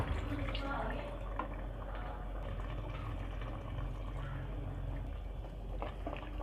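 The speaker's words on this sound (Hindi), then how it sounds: "तो अब हम इसमें डाल देंगे 2 कप पानी।" Water is poured into a pot of Bihari-style beef curry, giving a steady liquid wash and trickle under a hiss of background noise from the kitchen.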